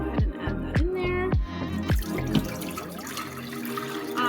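Water is poured into a crock pot while making chicken tortilla soup. Several short splashing drips come first, then a steadier trickling pour. It is close and moderately loud, with no talking.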